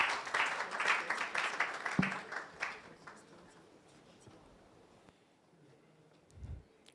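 A crowd at the NSMQ 2023 national quiz championship launch claps briefly, a burst of applause lasting about two and a half seconds before it fades into quiet room noise with a soft bump near the end.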